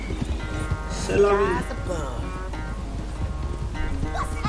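Horse hooves clip-clop at a gallop in Red Dead Redemption 2, a rhythmic patter under a person talking and game music.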